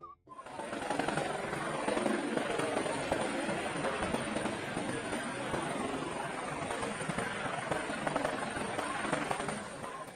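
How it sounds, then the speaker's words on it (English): An animated helicopter flies overhead, producing a steady, loud, dense rotor and engine roar that holds constant for the full duration with no pauses. "Helicopter is running out of fuel."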